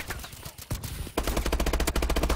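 Automatic gunfire in the video game Call of Duty: a brief shot or two, then a rapid, loud burst of evenly spaced rounds.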